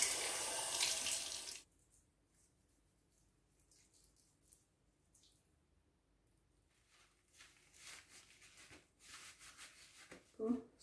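A bathroom sink tap runs loudly and steadily at first, then cuts off, leaving quiet splashing and rubbing as a face is washed with Nivea gel, with soft water sounds returning near the end.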